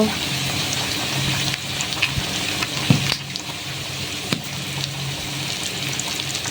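Whole spices, bay leaf, cinnamon, cardamom and cloves, fry in a pan of browned spice paste for a chicken dal, a continuous close sizzle with occasional clicks and scrapes of stirring, and a faint hum underneath.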